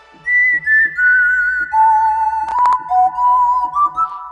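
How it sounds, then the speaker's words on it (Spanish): Classic melodic whistle sample from a sound library, a clean tonal tune of several sliding and held notes with short breaks, loud and close with no other sounds. "A ese silbido clásico"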